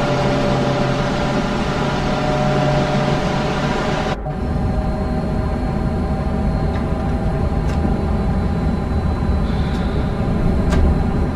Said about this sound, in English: It is a really interesting engine sound, I've got to say, or the motor sound